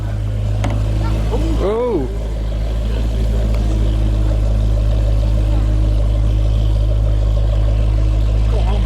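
A Range Rover engine starts up and idles with a low, steady rumble, with a brief rising rev near two seconds, while a person exclaims close by and talk continues throughout.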